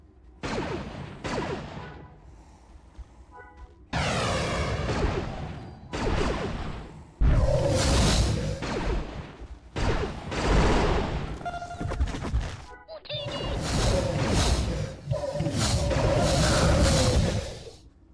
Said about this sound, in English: Cluster bombs.